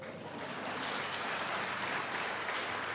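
A church congregation bursts into applause during a Christmas sermon, a dense, even wash of clapping that swells in and holds steady, with no voices over it.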